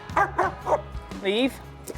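A rescued dog in a playground barks and yips several times, close and loud, ending in a longer whining bark, over a low background hum.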